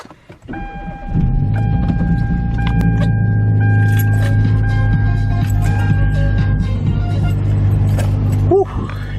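A car engine starts in the cold and settles into a steady, loud idle while warming up before a road trip, a low even drone with faint clicks and small rattles nearby.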